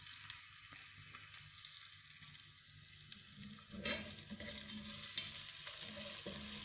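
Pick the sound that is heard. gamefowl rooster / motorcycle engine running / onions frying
onions frying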